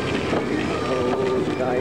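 Motorboat engine revving loudly and steadily on open water, buzzing close by under rushing wind, with people cheering and shouting over it.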